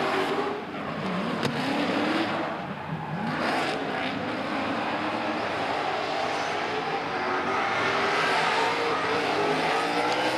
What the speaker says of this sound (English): Jace Brown out on track now in the Vitor Tyres machine. And listen to it scream